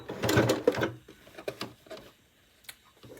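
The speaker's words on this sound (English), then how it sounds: "Now you can see I'm stitching really close to the edge here" A sewing machine stitches close to the edge of Liberty Tana Lawn cotton for a hair scrunchie, a quick whirring burst followed by a few softer, intermittent runs and clicks.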